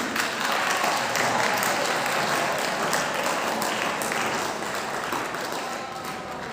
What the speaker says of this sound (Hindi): क्या हम उनके लिए जोरदार तालियां बजा सकते हैं?